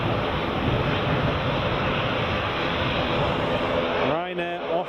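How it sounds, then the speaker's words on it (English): A Ryanair airliner arriving from Porto comes in to land at Edinburgh Airport, a steady broad roar holding loud throughout before a voice cuts in briefly at the end. "Got another Ryanair just coming in now from Porto."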